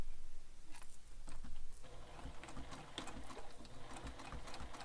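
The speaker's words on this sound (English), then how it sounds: "We're going to top stitch this using your favorite top stitch length." Top stitching on a bag, a sewing machine runs steadily and close for the whole stretch, a continuous fast mechanical whir without pauses or voices.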